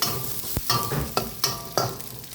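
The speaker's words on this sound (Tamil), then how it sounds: "கொட்டி லேசாக வதங்குது" Vegetables sauté in a hot pan with a steady sizzle, broken by several sharp scraping clatters as they are stirred and tossed. No one speaks.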